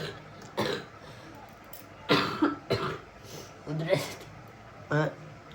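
Several coughs and throat-clearing bursts from a person with a cold, spaced irregularly across the moment, close and fairly loud, with some talking in between.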